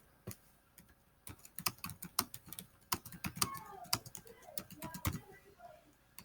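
Irregular bursts of keystrokes on a computer keyboard, close and fairly quiet, with clustered taps and short pauses between runs; no speech over it.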